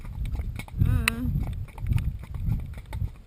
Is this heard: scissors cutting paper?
no